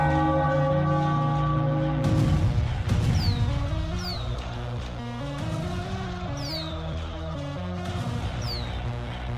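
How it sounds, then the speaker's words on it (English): After a baseball game win, a bell rings loudly and repeatedly, its sustained ringing tones layering and decaying over one another, with a few brief sharp accents along the way. "Ring the bell."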